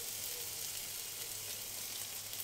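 Cashew nut paste goes into frying onion, ginger and garlic paste for an egg korma, producing an even, continuous sizzle close by.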